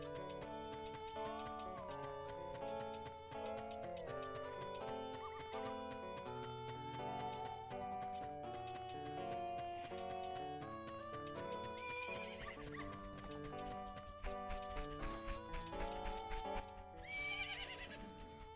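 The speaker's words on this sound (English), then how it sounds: "Isn't that your horse?" A horse neighs and gallops in Zelda: Majora's Mask at the ranch, with hoofbeats and a whinny set against steady melodic game music. A burst of higher sound comes near the end.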